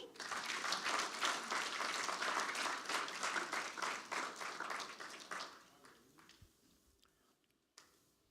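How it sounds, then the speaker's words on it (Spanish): A church congregation breaks into steady, dense applause that holds for about five seconds, then thins out and fades to a few scattered claps and quiet room noise. "Denle un aplauso a Jesús."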